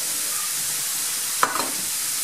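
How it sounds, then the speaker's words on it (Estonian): Minced meat frying in a pan for a layered potato bake gives a steady, even sizzle, with a short utensil clack and scrape near the middle. "Selle ma praen ka."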